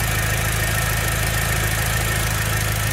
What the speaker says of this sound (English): Everything sounds good. You hear it right here. Very healthy sounding engine.